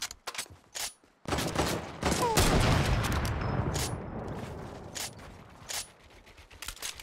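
Gunfire in Fortnite Battle Royale: a few sharp separate shots, then a loud, close, rapid volley that rolls on for a few seconds before fading into scattered single cracks.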